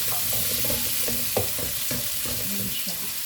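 String beans go into a pan for ginataang gulay, a Filipino vegetable dish with canned tuna. A steady sizzle runs throughout while a utensil scrapes and stirs in short strokes.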